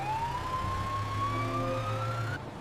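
An ambulance siren wails close and loud as a single rising tone that holds steady over a low engine rumble, then cuts off abruptly near the end.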